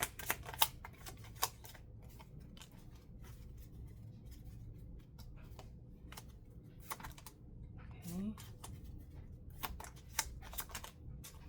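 A handmade deck of cards is shuffled in a series of quick, crisp riffles and flicks, close and fairly quiet against a soft background hum.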